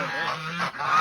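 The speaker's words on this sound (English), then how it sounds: "Is that geese?" Geese honk in a short burst of nasal calls at an outdoor farm setting in Costa Rica, fairly close and loud, with no talk over them.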